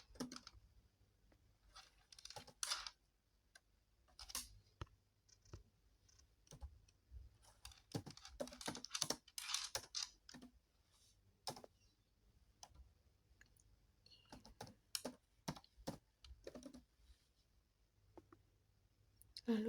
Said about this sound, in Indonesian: Kita ketik.